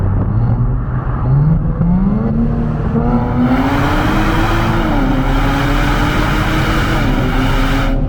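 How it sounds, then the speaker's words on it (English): Nissan 400Z exhaust under acceleration, a rising engine tone climbing through the revs with a shift partway, loud and sustained from inside the car, no voices. "most cars at this price range are going to have a better sounding exhaust setup than this does"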